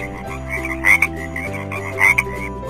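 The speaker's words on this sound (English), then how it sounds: "F as in frog." Frog croaking in a kids' animal alphabet game, a steady low rattling call with two louder bursts, clear and close with no talk.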